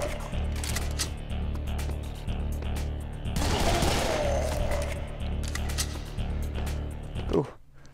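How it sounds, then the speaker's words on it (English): Shotgun blasts from the first-person shooter Serious Sam 3: BFE, set against a loud, steady game soundtrack, with one big burst of fire in the middle and a sharp hit near the end. "Well, shotguns."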